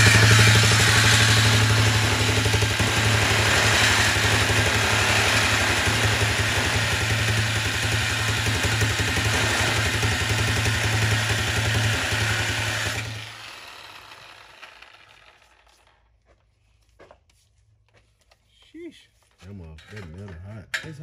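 BMW E92 328i running with a cut, catless exhaust, giving a loud, steady engine drone for about thirteen seconds, then cutting off into near silence with faint handling noises and brief voices near the end.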